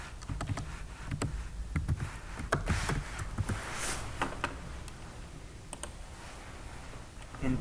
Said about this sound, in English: Again, type the localhost